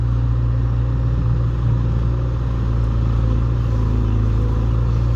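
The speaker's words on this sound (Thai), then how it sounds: "นี่ เร่งเครื่อง น่าจะประมาณเลยครึ่งไปหน่อยครับ" A truck engine with its electrics and solenoid pump working revs steadily at around half to three-quarter throttle, a loud, continuous close-up drone with a mechanical clatter running through it and no talk.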